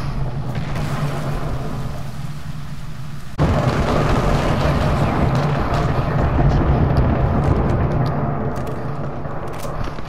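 A frag grenade goes off in the video game Apex Legends. A sudden, loud blast cuts in partway through, followed by a sustained, heavy rumbling roar.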